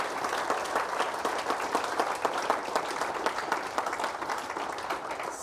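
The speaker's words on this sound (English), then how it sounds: "So if we can just give them a round of applause," Sustained audience applause at a regenerative agriculture conference, dense steady clapping from a sizeable crowd at moderate volume that carries on unbroken throughout.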